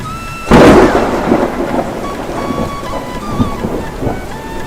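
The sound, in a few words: thunderstorm with heavy rain, cartoon sound effect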